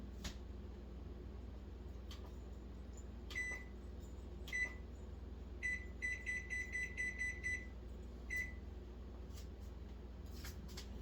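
A kitchen timer beeps during cooking, first with scattered single short beeps, then a quick run of repeated beeps, then one more, over a quiet room hum.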